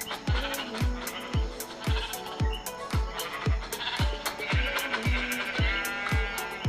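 Sheep bleating in Minecraft, wavering calls rising over a steady beat of regular thudding steps, fairly close, with no speech.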